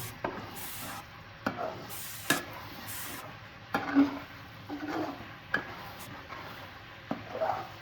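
A spoon stirs and scrapes an egg and tomato mixture in a pan, giving irregular soft scraping strokes over a low background sizzle, close up, with no talking.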